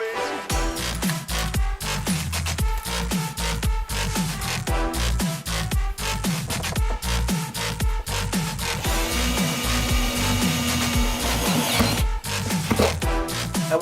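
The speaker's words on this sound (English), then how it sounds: "So now we're going to enlarge these holes with the step drill." A step drill bores out and enlarges holes, a loud, dense, grinding whir with rapid rhythmic chatter as the bit bites through successive steps, running continuously throughout.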